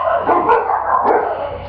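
A dog barks several times in quick succession, loud and close, with sharp yappy bursts and a short whine between them, and no talking.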